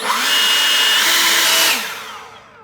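An Ego 56-volt battery leaf blower runs close and loud with a steady high whine and rushing air, then spins down and fades over the final second.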